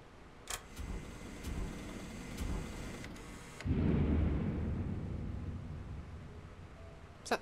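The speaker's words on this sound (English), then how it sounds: "Is that thunder?" Thunder in the video game Superliminal, a deep, loud rumbling roll that swells suddenly and fades slowly over several seconds, following quieter low ambient noise and a few faint knocks.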